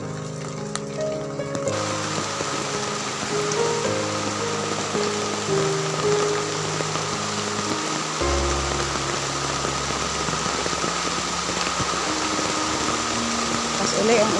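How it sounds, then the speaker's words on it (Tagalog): Steady rain falls in Toledo City, Cebu, making a continuous broadband hiss for the whole stretch while a person speaks over it. "Uli ang ulan."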